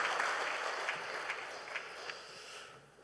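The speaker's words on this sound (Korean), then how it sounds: "우리 박수로 환영하겠습니다" A church congregation clapping during a Sunday worship service, a soft, distant patter of hands that swells briefly and then fades out.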